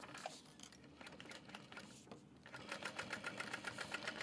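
A sewing machine stitches a zipper seam with a 3/8 inch seam allowance on a train case, its needle clattering in a fast, even rhythm that speeds up and grows louder in the second half.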